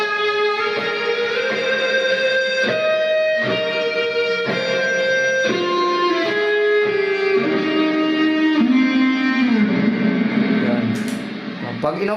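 An electric guitar played through a reverb effect pedal sounds a slow run of sustained lead notes, each ringing out with a lingering wash, loud and close with no voices.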